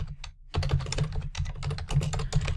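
Rapid typing on a computer keyboard while entering a page title in a note-taking app, a quick irregular run of close, crisp key clicks after a brief pause.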